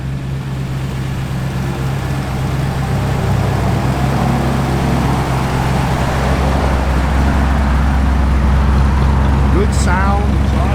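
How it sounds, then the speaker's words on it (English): A 1964 Chevrolet Impala with a slightly upgraded cam runs steadily, its exhaust giving a low, continuous rumble close by that slowly swells in loudness. "Good sound, exhaust sounds real good on it."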